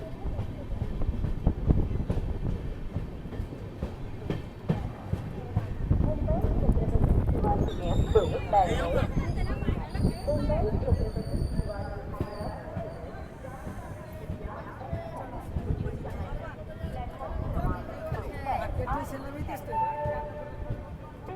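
Udyan Express rolling through Kurduwadi junction station, a low continuous rumble of wheels and carriages with clanks, wind and faint crowd babble around it, moderately loud throughout.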